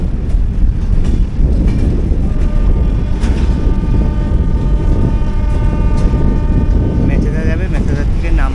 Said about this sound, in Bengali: তা সেই দীঘা লোকালটা ঢুকছে